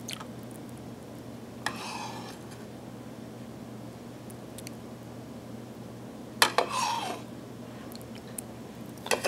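Curd is added to whey in a bowl for zomkoum, making two brief wet plopping, scraping bursts separated by several seconds of quiet room hum, with no voices.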